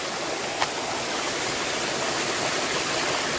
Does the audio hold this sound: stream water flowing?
yes